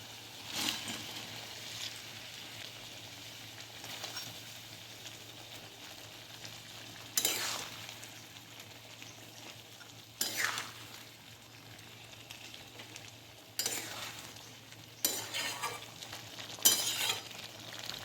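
Fish roe simmers in bubbling gravy in a pan, a faint, steady cooking hiss broken by several brief, louder scraping bursts as the mixture is stirred.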